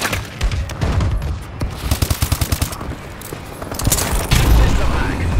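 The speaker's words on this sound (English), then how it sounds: "Enemy bombing run overhead." Call of Duty: Advanced Warfare multiplayer match with an enemy bombing run overhead, heard as loud bursts of rapid gunfire and booming impacts in a dense rhythmic cluster, with a heavier blast near the end.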